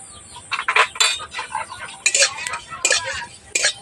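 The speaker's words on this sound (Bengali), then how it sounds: "দু চামচ গোটা জিরে দিয়ে ভালোভাবে জিরেটাকে ভেজে নেব" Whole cumin seeds roasting in a hot wok come through as crackly sizzling bursts mixed with clinks and scrapes of a spoon against the metal, close and irregular.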